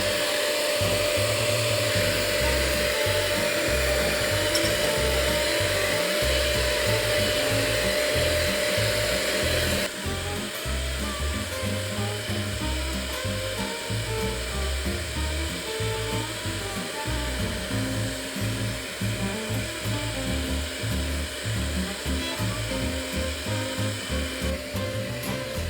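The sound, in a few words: electric mixer mixing carrot muffin batter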